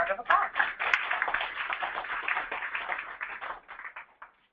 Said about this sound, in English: Please give Laura a round of applause.